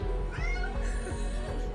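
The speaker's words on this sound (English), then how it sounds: "hopefully my cat won't join us, but she might." A domestic cat meows close by, a drawn-out wavering call over a steady low hum of room noise, with no talking.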